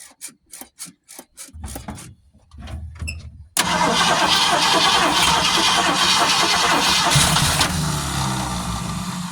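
A 1971 Ford Torino engine cranks in several rhythmic starter bursts with pauses, then catches and settles into a loud, steady running roar close by.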